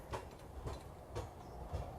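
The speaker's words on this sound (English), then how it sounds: "Here comes the tram." A tram rolls in on the Peak, with a steady low rumble and regular clickety-clack wheel beats over rail joints, heard fairly loud outdoors with no talking.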